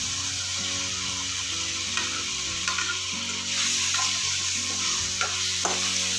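Guava pieces sautéing in oil with tomato in a pan for Maharashtrian peruchi bhaji: a steady close sizzle with scraping stir strokes and a few sharp clicks of a spoon against the pan, no talk.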